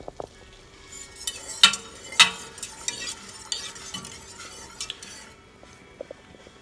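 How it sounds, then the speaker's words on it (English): Cream and turkey broth are stirred in a pot with a metal utensil, making a series of scrapes and clinks against the pot in an irregular rhythm, close and fairly loud. "I'm going to give this a little stir."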